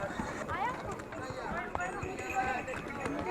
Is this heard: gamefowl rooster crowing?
no